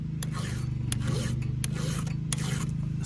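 A square file rasps across a chainsaw chain in rhythmic strokes, close and loud, with several evenly spaced scrapes over a low steady hum.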